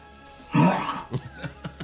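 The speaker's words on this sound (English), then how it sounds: "Like he's trying to cough something. Hawk the loogie." A harsh, throaty cough bursts out, followed by several short rasping hacks and throat-clearing sounds, as if dredging up phlegm.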